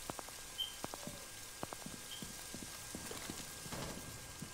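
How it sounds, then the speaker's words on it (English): Running footsteps in the tactical shooter Rainbow Six Siege, a quick series of light, sharp taps at an irregular pace, faint and moderately distant against a quiet game background. "I hear somebody running."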